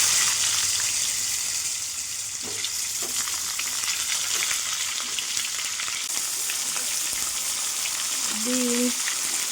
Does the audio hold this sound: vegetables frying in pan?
yes